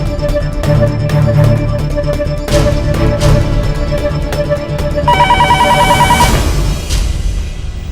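A telephone rings in repeated electronic trills in an indoor drama scene, growing louder and brighter partway through, with no one speaking.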